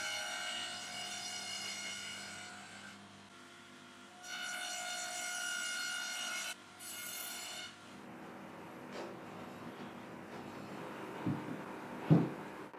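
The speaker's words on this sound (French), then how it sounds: "Je peux maintenant rainurer les pieds pour l'étagère. Et pour cela, j'utiliserai ma lame courbe à dent plate de 5 mm." A curved 5 mm flat-tooth blade cutting grooves into white oak legs gives quiet, steady whining passes in separate bursts, followed by softer scraping and a few sharp knocks near the end, with no voices.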